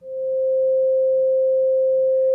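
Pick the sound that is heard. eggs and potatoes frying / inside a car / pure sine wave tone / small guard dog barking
pure sine wave tone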